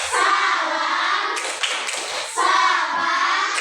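Elementary students chant in unison during a classroom clapping game, their steady sing-song voices interrupted by brief bursts of group clapping and taps, loud and near.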